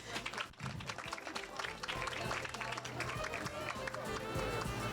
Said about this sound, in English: we're gonna give him an applaud as he gets himself together and come up